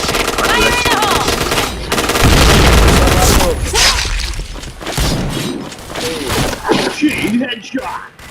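Video game gunfire with a grenade explosion, loud rapid automatic bursts and booming blasts layered densely together, with players shouting over the action.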